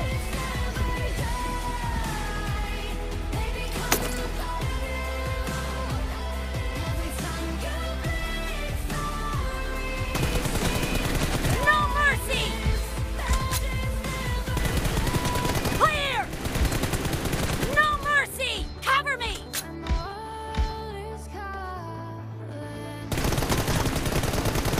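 Rapid automatic gunfire in a shooter video game during a team deathmatch, dense bursts of shots over game music and effects, loud and continuous, with brief gaps near the end.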